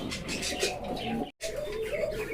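A pair of big local Golla pigeons coo softly and steadily close by, under a general background hum with faint voices.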